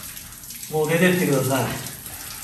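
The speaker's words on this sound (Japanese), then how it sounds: "お前下を集中的にシャワーで洗うな今" Shower water gushes and splashes for about a second in a bathroom, starting abruptly and tapering off, with a voice speaking over it.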